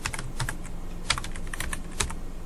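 Keys clatter on a computer keyboard in an irregular run of clicks with a few louder strikes, close up over a faint steady hum, while text is entered during database programming work.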